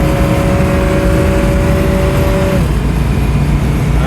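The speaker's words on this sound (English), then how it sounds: "220 SEB, accelerating as I get on the highway" A 1962 Mercedes-Benz 220SEb V8 Cabriolet accelerates onto a highway, engine note rising under loud, constant road and wind roar heard from inside the car, with the pitch dropping as it settles mid-clip.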